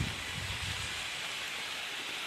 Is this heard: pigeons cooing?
no